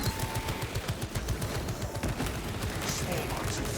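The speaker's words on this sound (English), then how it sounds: "sentry gun" An automated sentry gun in Space Marine 2 fires rapid, evenly spaced bursts, loud and close, with a game voice briefly audible alongside.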